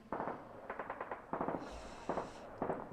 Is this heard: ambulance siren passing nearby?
no